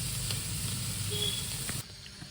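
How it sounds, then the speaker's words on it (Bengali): Dried red chilies, nigella seeds and chopped onion sizzle loudly in very hot oil, a dense, steady frying hiss that cuts off abruptly near the end. "তেলটা খুব গরম আছে তো লঙ্কাগুলো ফুটছে"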